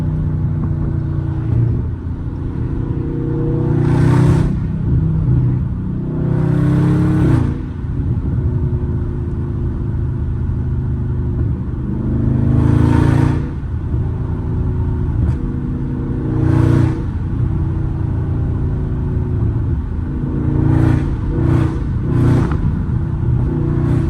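A Dodge Charger Scat Pack in sport mode rumbles loudly at close range, with repeated rising revs and bursts of acceleration spaced through a continuous deep exhaust drone.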